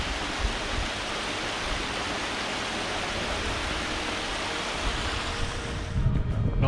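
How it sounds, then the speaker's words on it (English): A waterfall on a mountain ridge walk in Wales, a steady broad rushing roar of falling water heard continuously, fairly close, with a few louder gusts near the end and no talking. "Nice waterfall."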